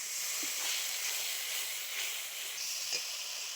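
Spice paste thinned with a little water sizzling and hissing in a hot frying pan, a steady close sizzle with a couple of brief spits.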